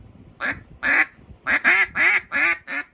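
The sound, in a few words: duck call imitating ducks quacking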